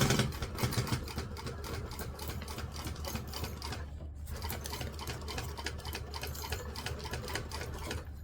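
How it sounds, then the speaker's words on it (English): A sewing machine stitches fabric at a steady run, its rapid mechanical ticking continuous and close throughout, with only a brief pause midway. "So now, apparently I'm sewing it this way."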